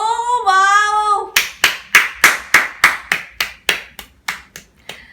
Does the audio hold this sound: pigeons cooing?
no